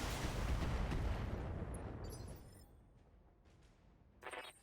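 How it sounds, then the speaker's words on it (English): A mech in the Battletech video game fires all its weapons, including an SRM-6, in a heavy booming volley that rumbles and fades over a few seconds, followed by a brief sharp impact burst near the end. "Firing all weapons."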